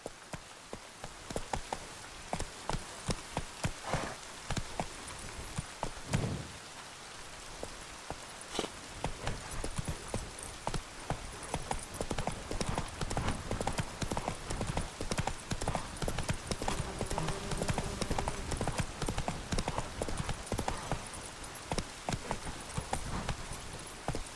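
Horse hooves pounding at a gallop in The Witcher 3, a fast, dense clip-clop rhythm that runs loud and steady for the whole stretch with a brief lull early on.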